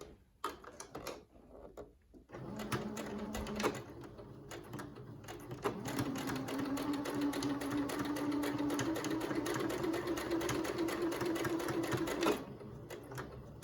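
A sewing machine hems the edge of a small fabric face mask for an 18-inch doll, starting with a few short bursts and then running in a long steady whir for several seconds before stopping, close and clear with no talking.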